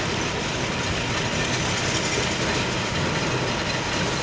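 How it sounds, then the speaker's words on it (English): A lumber mill in Raymond, Washington, running at night, gives off a steady, dense industrial roar that stays loud and unchanging throughout with no voices. "This is what it sounds like in the middle of the night in Raymond, Washington,"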